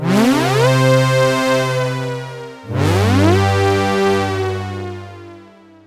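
A Massive supersaw synth holds long, thick sustained chords, two in succession, each note's pitch gliding slowly as it is released for an eerie effect, loud and alone with no voices.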